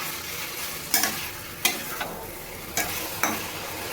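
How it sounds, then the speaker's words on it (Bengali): A spatula scrapes and stirs a hilsa fish head with vegetables in a pan in regular strokes about every half second to second, over a soft, constant frying sizzle. "ইলিশ মাছের মাথাটা দিয়ে আমি ভালোভাবে নাড়িয়ে নেব"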